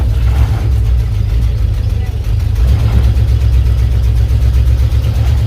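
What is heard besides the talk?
1984 Ford F150 engine idling roughly in gear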